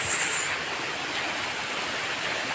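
Lihonjar Waterfall in Karbi Anglong, India, makes a steady, full-bodied roar of rushing water that does not change, heard up close with no voices.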